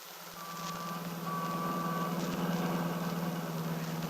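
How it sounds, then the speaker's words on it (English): Busy Chicago city traffic rumbles steadily, with engine hum and a high repeated beeping from a vehicle, moderately loud and with no voices. "Seems so noisy. All the people, the traffic."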